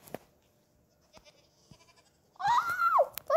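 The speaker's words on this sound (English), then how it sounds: "Oh, let's make them mountain goats." Mountain goats in Minecraft give a loud, wavering bleat near the end, after a quieter stretch of soft game sounds and clicks.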